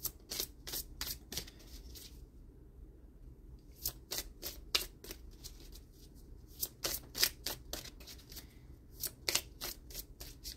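Oracle cards being shuffled by hand: quick bursts of crisp riffling slaps in rapid clusters, close and fairly soft, pausing briefly between runs.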